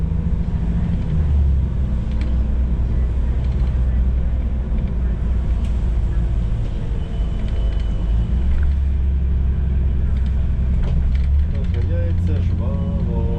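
An Elektron bus engine drones steadily as the vehicle speeds up and drives on a route in Uzhhorod, a constant low rumble filling the cabin without pause.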